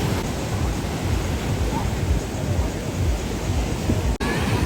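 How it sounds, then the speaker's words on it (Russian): Storm waves crash steadily against a pier on the Odesa seafront, a loud continuous roar of surf and wind with no clear breaks. "видно, как волны, видите, бьют по пирсу"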